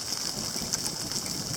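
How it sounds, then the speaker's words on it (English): Spring rain falls in the montane Mojave desert as a steady, dense hiss of drops on the surface, continuous and fairly close with no voices. "Quite a heavy hail, and then rain just fell. Still kind of falling."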